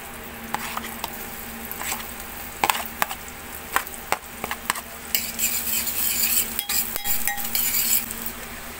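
Garlic drops into a pot of soup and gets stirred, with a spoon clinking and scraping against the pot among soft patters, then a brighter sizzle rises toward the end.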